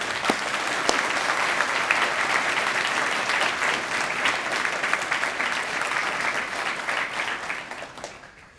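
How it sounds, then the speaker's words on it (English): Audience at a National Law Day of Action event breaks into sustained applause, a dense, even clatter of many hands that carries on for several seconds before tapering off, with a faint voice briefly audible. "Give them a round of applause."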